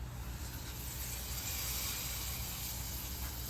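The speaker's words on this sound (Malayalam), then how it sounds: "കടുക് വറുത്തത് ഇതിലേക്ക് ഒഴിക്കാം." Fried mustard seed tempering poured into a pot of dried prawn and raw mango curry, giving a steady, loud broadband sizzle and hiss that holds evenly throughout without pause.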